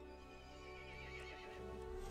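Horse in Resident Evil Village gives a faint wavering whinny that rises and falls over a droning, ominous game soundtrack, with no voices.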